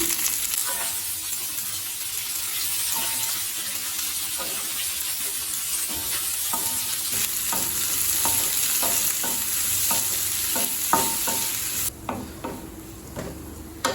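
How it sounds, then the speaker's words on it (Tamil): Garlic cloves and onions sautéing in a pan, a continuous sizzle broken by repeated sharp scraping and stirring clicks, close and fairly loud with no talking. "6 பல் பூண்டு, 2 வெங்காயத்தை சேர்த்துக்கலாம்"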